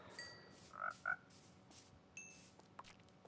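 Frogs croaking in the Minecraft video game, a few short separate croaks spread across a quiet stretch, fairly faint and with no talk over them.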